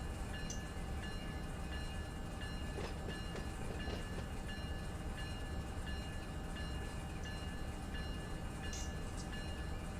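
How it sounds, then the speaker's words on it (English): Trim locomotives idling and running in the Run8 train simulator game on the NorCal server, a steady rumbling diesel drone with rail noise and occasional faint horn-like tones, continuous and fairly loud with no talking. "We'll use the trim locomotives."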